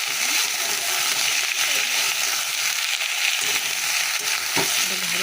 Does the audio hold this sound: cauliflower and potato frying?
yes